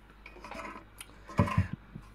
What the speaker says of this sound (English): And let's pull the lid off this.